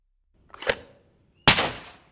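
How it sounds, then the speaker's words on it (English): Two sharp gunshots ring out about a second apart, the second louder and closer, each with a brief echoing decay. "A gunshot is a combination of several noises."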